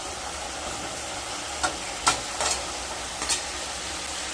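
Spice paste sautéing in a pan for a drumstick and katla fish curry, a steady soft sizzle with a few brief scraping stirs standing out near the middle.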